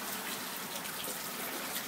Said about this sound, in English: Look at these waves, though.